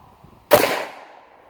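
A single gunshot strikes a 6-inch oxygen tank bottom used as a steel target, giving one sharp close crack followed by a bright ringing tail that fades over about a second.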